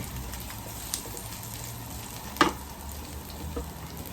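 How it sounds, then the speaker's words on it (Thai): Garlic, about two tablespoons, stir-fried in a pan for a pork and kimchi dish, a soft continuous sizzle with a sharp clatter of stirring near the middle and a couple of lighter knocks. "ผมใส่กระเทียมลงผัดนะครับ ใส่กระเทียมสักสองช้อนโต๊ะนะครับ"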